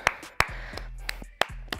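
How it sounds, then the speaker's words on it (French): Boxing class participants clap for themselves at the end of a training round: a few sharp, scattered claps at uneven intervals over a low, steady background hum. "On peut venir s'applaudir."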